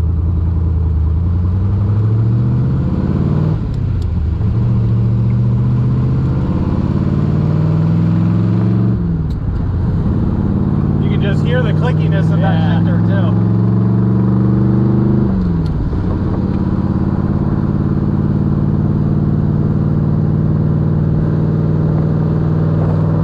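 1967 Chevrolet Corvette L88 V8 running and revving, loud deep engine note that climbs and drops through several distinct rev sweeps, close up with no talking.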